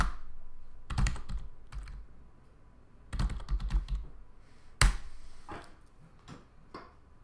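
Someone types a search into a computer keyboard in short bursts of key clicks separated by pauses, ending with a firmer keystroke. The sound is close and fairly quiet, with no talking.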